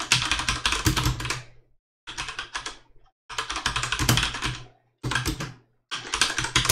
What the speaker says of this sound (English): Ignore my bad typing.